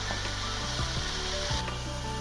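Marinated chicken pieces go into hot oil for a broast-style karahi, giving a loud, steady sizzle and crackle that fills the whole moment with no talking.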